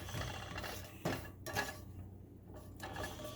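A spatula scraping and pushing a hefty glob of coconut oil around a pan, a few soft rasping strokes with brief pauses between them, close and quiet.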